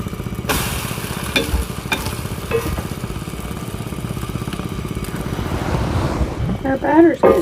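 French toast sizzles in a hot skillet with a steady frying hiss and a few sharp utensil clicks, while people talk over it.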